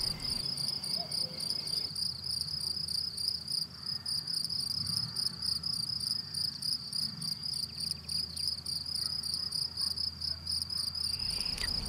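Insects chirp in a meadow, a steady high pulsing trill of crickets repeating evenly throughout with quiet background, no voices.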